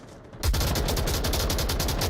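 Rapid automatic gunfire from a match of the VR shooter game Onward rattles in a steady, loud burst after a brief quiet start.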